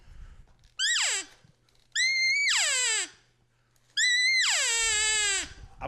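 A hunter imitates an elk cow's estrus scream with a call: three long, high, whistling squeals that bend downward at the end, each loud and separated by short quiet pauses.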